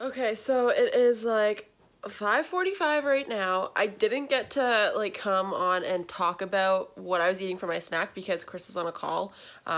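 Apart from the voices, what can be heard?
No everyday noises stand out.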